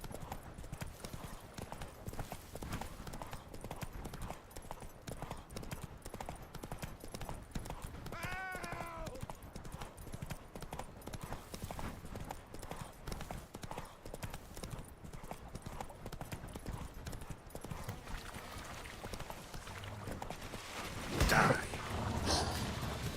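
Horse hooves in The Witcher 3: Wild Hunt clip-clopping at a steady rhythm across the whole stretch, with a brief whinny partway through and a person talking over it near the end.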